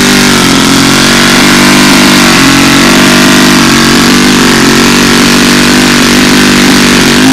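A small aircraft engine runs loud and steady on the ground, burning through a quart of fuel at shifting RPM, with a continuous hum whose pitch drifts up and down slightly.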